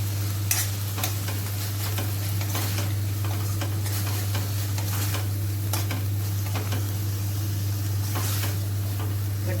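Capsicum cooking in a sizzling onion gravy for a homemade potato and capsicum dish, with repeated spoon stirs and scrapes against the pan over a steady frying hiss and low background hum.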